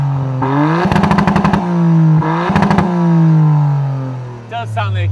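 A Toyota GR Yaris engine revs through the number four exhaust pipe in two sharp bursts of rapid, crackling throttle blips, each settling back to a loud, steady idle.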